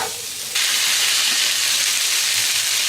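Onions slide into a hot pan and break into a loud, steady sizzle that starts abruptly and holds evenly, with no talking over it.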